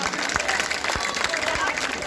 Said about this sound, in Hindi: दोनों हाथ उठा के आगे पीछे के साथ ही जोरदार ताली हमारी बहन के लिए बजाइए